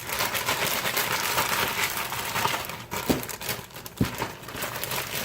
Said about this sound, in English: we zip everything up and shake it